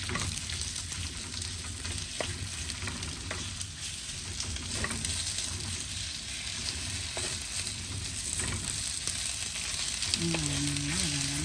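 Eggplant fries in hot oil in a pan for a brinjal and prawn curry, giving a steady, fairly loud sizzle with occasional stirring clinks and no talking.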